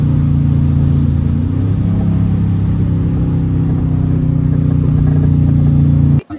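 A Dodge Charger R/T in sport mode drones with a loud, steady engine roar up close, shifting pitch slightly as it revs after a downshift, then cutting off abruptly at the end.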